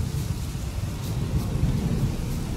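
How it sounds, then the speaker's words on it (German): Constant rain with deep rolling thunder in a swamp area of the video game Witcher 3, a dense low rumble under steady patter, with no talking. "Muss es eigentlich immer regnen, wenn wir auf dem Weg in den Sumpf sind?"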